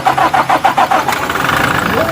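A 2020 Toyota Innova diesel engine cranks with a rapid run of starter pulses, then catches and settles into a steady idle, heard up close.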